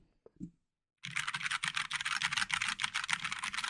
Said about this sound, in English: So what's so cool about a mechanical keyboard?